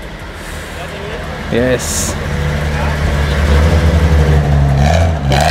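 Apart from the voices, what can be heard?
1996 Toyota Celica GT4 pulling off at a car show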